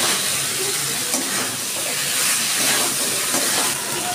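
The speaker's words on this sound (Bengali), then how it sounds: "এবার আমি আলুগুলো দিয়ে দিচ্ছি।" Potatoes dropped into spiced lentils frying in a pan for a vegetarian pumpkin dish, producing a loud, continuous hissing sizzle with faint stirring, steady for several seconds.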